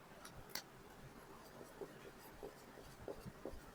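A black pen or marker writes on a surface, making faint, short scratchy strokes spaced irregularly in a quiet room, with no speech.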